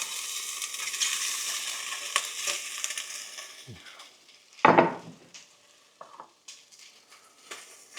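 Sausages for curry going into a hot frying pan, a steady sizzle that fades, then a sharp loud crackling burst as they hit the oil, followed by quieter sputtering and light clinks, close by with no talk.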